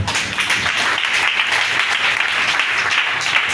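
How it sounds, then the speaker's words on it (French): A church congregation bursts into sustained, dense applause to acclaim the Lord, many hands clapping loudly together in a continuous wash of sound with no break. "acclamons le Seigneur"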